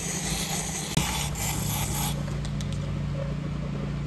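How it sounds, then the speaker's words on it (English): WD-40 sprayed onto silicone sealant, a steady hissing spray running close and continuous for about four seconds with a brief pause and restart near the start. "Next, we spray liquid 40 onto the silicone sealant."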